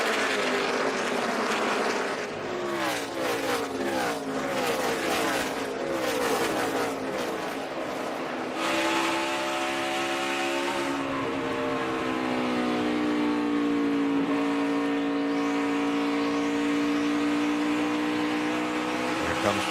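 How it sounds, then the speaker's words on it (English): NASCAR race cars at Dover Motor Speedway in the 2014 Dover 200 roar past loudly and continuously, engine tones rising and falling as they go by, with a sustained engine drone in the second half. "Here comes Justin Boston in that number 20 car"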